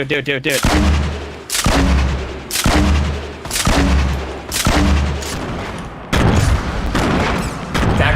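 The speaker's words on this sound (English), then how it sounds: "I can grenade launch this" Grenade launcher blasts in Fortnite boom loud and close, about seven heavy explosions coming at a fairly even pace, each followed by a rumbling decay.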